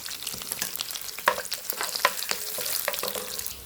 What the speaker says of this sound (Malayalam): എണ്ണ ചൂടായിട്ടുണ്ട്, കടുക് ഇടുകയാണ്. കടുകെല്ലാം പൊട്ടി വറ്റൽമുളക്, കറിവേപ്പില, അതിനോടൊപ്പം തന്നെ ഒരു ലേശം അരി